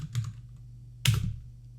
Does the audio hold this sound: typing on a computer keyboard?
yes